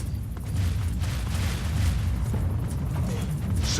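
Explosions in the video game Fallout 3, a dense booming rumble with rolling blasts and crackling bursts filling the clip, loud and continuous, without talk.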